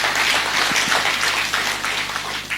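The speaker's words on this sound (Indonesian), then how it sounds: "Berikan tepuk tangan kita untuk Tuhan kita." Church congregation applauding at the close of a sermon, a steady wash of clapping sustained throughout at even loudness, with no voices over it.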